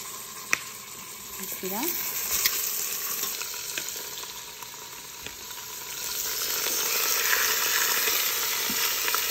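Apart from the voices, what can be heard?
seasoned pork roast browning in an Instant Pot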